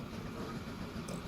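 A train running in the video game Transport Fever 2 gives a faint, steady rolling rumble with no voices over it.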